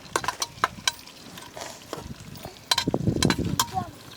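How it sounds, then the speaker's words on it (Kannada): Onions fry in a pan for chicken biryani with a soft, faint sizzle, broken up by sharp clicks and scrapes of a spoon stirring against the pan. "ಸ್ವಲ್ಪ ಫ್ರೈ ಆಗಲಿ ಆನಿಯನ್."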